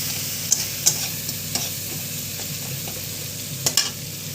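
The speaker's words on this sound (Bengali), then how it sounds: "কষিয়ে নিব ভালো করে।" Spices are sautéed in a pan with salt and a little sugar, stirred briskly: a steady sizzle under a series of sharp spatula scrapes and taps, clustered early and again near the end, heard close with no voices.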